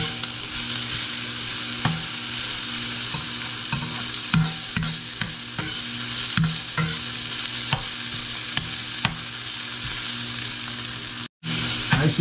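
Garlic sautés in a hot pan, a constant close sizzle broken by occasional scrapes and stirring clinks, with no voices.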